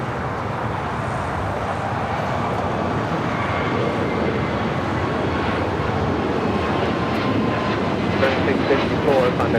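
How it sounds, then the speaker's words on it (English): An Airbus A321neo jet roars past at LAX, a loud, continuous broadband engine rumble that swells slightly toward the end. "That was the flight heading to Cleveland in an A321 Neo."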